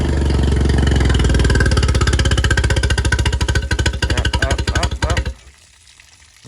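A 2001 Craig Cat boat engine, carburetor recently run dry, fires up and runs with a loud, fast, rough putter that pulses steadily close by, then cuts off abruptly near the end, leaving quiet.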